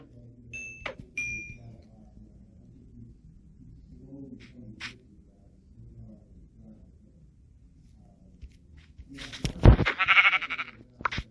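A sheep bleats in Minecraft Pocket Edition, a brief game sound near the end followed by a louder burst, with quiet game noise and a few chimes earlier.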